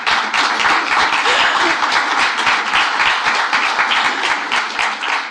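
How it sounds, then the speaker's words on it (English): Loud, dense audience applause at an AI conference, steady and continuous with sharp individual claps close by throughout. "And I would like to ask you to give a big applause to Martina."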